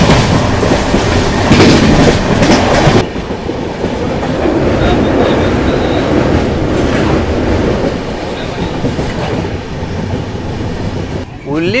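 The Tirupati–Nizamuddin Sampark Kranti express runs on rails with a loud, continuous interior rumble and rattle, its rhythm shifting partway through, plus faint high squeals.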